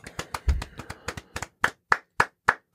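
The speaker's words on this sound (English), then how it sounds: "Can we give the rap line a round of applause?" A few people clap for a rap line, starting as a quick uneven patter and settling into about half a dozen slow, separate, fairly close claps near the end.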